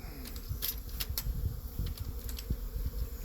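Honey bees buzz around their hives in a faint, close hum, with scattered brief ticks and knocks over a steady low drone.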